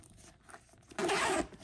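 A zipper on a planner carrying case is pulled in one quick, close zip lasting under half a second after some faint handling noises.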